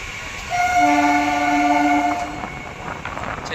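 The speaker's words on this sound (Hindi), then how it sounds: "यहाँ से भी अपनी ट्रेन का डिपार्चर हो गया जसवंत नगर से" An Etawah–Mathura MEMU train departing a small station lets out a loud, sustained horn blast for about two seconds, with the rumble of the running train beneath it.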